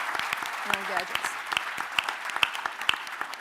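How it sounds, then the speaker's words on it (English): An audience gives a round of applause at a tech gadgets program event, with steady clapping running under a voice that talks over it from the start. "I think he deserves a round of applause for all the amazing"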